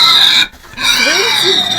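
A pig in a barn squeals loudly and continuously at close range, breaking off for a moment before resuming with a shrill, wavering cry.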